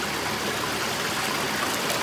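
A forest stream flows steadily over rocks, a dense, continuous rush of water close by with no voices, holding an even level throughout.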